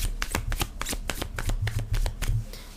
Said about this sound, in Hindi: आज कार्ड अपने आप ही निकल के आ रहे हैं।